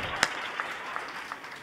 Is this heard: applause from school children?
yes